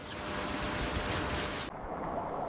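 Steady rain falls over a Swiss village, a dense, even hiss with no other sounds, softening slightly partway through as the brightest top end drops away.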